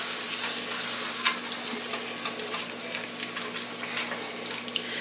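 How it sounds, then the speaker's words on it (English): Ground beef sizzles steadily in a pan as water is mixed in, a continuous close frying hiss with light stirring scrapes and small pops over five seconds, with no voices. "I have 2/3 cup of water I'm going to mix in with our ground beef."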